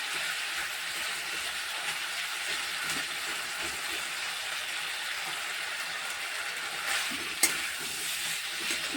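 Spices fry in oil for a thin jeol fish broth, giving a continuous, quiet hissing sizzle with one sharp clink from a utensil near the end; no one speaks.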